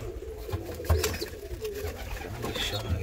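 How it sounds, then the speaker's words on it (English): Racing pigeons coo softly in a loft among young birds, low repeated throaty calls with light rustling and a brief human voice in the background. "The racing pigeon."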